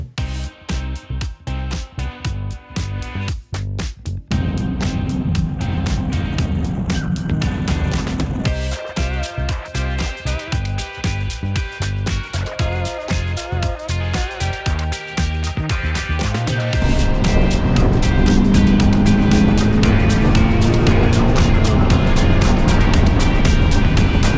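FRS sports car driving hard on a race track, a loud steady engine drone with rapid repeated pulses and gear-change shifts in pitch, rising to a louder sustained roar near the end.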